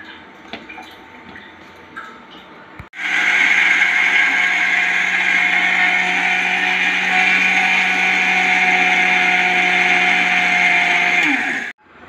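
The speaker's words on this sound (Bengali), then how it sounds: "এবার মিক্সিং বাউলে নিয়ে এটা এবার গ্রাইন্ড করা হবে।" After a quiet start, an electric mixer grinder roars to life, grinding cardamom seeds with sugar in its jar. The whine runs loud and steady for about nine seconds, then cuts off abruptly.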